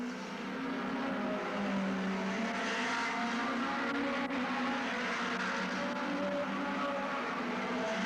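Hot rod cars racing around an oval track at Northampton in 1985, a continuous loud engine roar with passing cars blending together, heard from the trackside.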